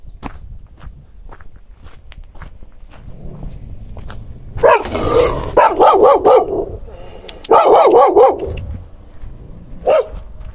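Dog in a mountain village in Samcheok barking in several loud bursts of repeated barks, close by, with footsteps shuffling in between.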